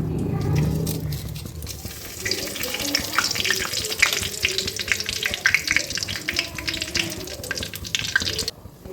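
Cardamom fries in hot oil in a kadai, a loud, close, continuous crackling sizzle that grows busier midway and cuts off abruptly near the end, with no talk.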